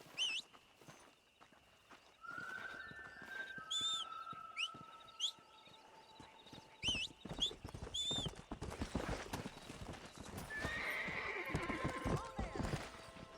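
Horse hooves clip-clop at a riding pace, with loud whinnies and neighs rising above, plus some background voices and bird chirps; the steady rhythmic hoofbeats build in the second half.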